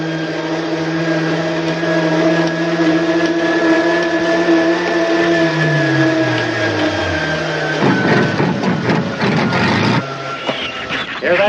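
A boat or island engine runs steadily with a humming tone that shifts pitch downward, then a burst of rougher noise as it revs before settling, heard in a 1950 film set on Samoa.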